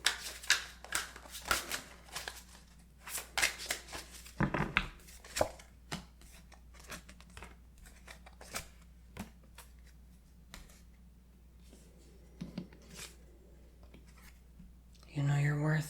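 Tarot cards are shuffled, tapped and laid out for a reading, making soft close-up clicks and rustles in irregular flurries, with a quiet voice speaking near the end.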